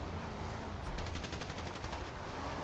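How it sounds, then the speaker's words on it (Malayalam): Rapid automatic gunfire crackles in a multiplayer video game battle, a quick burst of evenly spaced shots over a dense, constant roar of game noise, moderately loud, with no speech. "കെവിയുടെ ഭാഗത്തുനിന്ന് വാസ്ക് ഇറങ്ങി ഫയർ ചെയ്യുന്നുണ്ട്"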